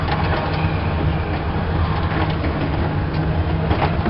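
Onboard a train out of Grand Central Station, a constant loud rumble of the moving carriage with engine-like drone and faint rattles, no voices.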